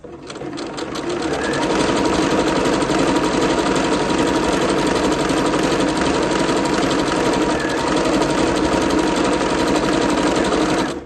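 A sewing machine runs steadily and close up, gathering open fabric into ruffles for a festa junina skirt. Its rapid, even whir and stitching chatter continue almost without pause.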